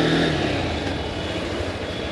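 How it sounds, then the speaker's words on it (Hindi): A Honda Hornet 2.0 motorcycle's exhaust note, a steady, continuous engine drone that stays close and fairly loud throughout with no talking over it. "तो सबसे पहले आप एग्जॉस्ट नोट सुन लीजिए बाइक का"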